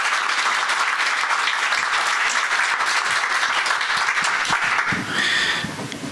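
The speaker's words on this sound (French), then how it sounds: "Et bien sûr, je vais vous demander d'applaudir très" A conference hall audience at Dar Al Maghrib applauds guest of honour Asma Lamrabet with sustained, dense clapping that holds steady, then thins and fades near the end as a voice begins over it.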